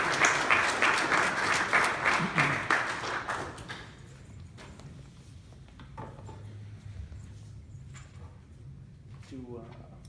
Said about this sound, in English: give them both a warm round of applause